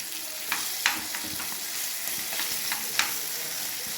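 Rava-coated fish fries on a hot tawa with a constant close sizzle, broken by several sharp clicks and scrapes as it is turned and pressed.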